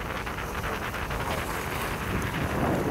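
Strong wind by the sea buffets the microphone with a steady, dense roar and rumble, loud and continuous throughout.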